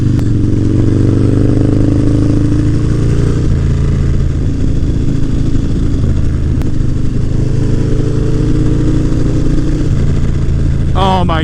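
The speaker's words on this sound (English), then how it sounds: "There is just no bike that is as fun to ride as a Harley Davidson FXR" A Harley-Davidson FXR motorcycle being ridden, its engine a loud, close, steady low rumble with rushing wind throughout, and a voice briefly heard at the end.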